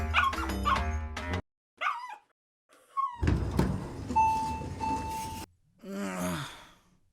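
A dog at an apartment barks and yips in several short bursts separated by pauses, with whimpering tones in between, close and fairly loud.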